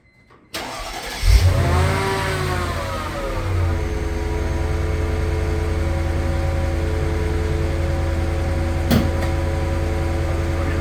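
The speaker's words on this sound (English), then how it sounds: "We're gonna do a cold start on this 1999 Mercedes." A low-mileage, one-owner 1999 Mercedes cold-starts: a short silence, then the starter cranks, the engine catches with a rising rev, and it settles into a steady, even idle that runs on alone.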